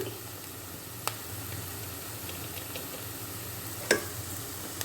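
Chili powder and other ground spices roasting in a pan, a soft continuous sizzle with a couple of faint clicks of a spoon against the pan.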